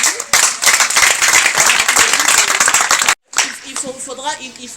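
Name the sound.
audience applause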